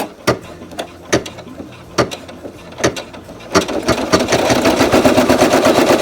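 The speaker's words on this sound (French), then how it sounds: "nous allons démarrer la broderie du fil rouge" An embroidery machine stitching red thread onto faux leather: sharp, evenly spaced mechanical clacks at first, then a fast, continuous rattling chatter of the needle running at full speed, loud and close.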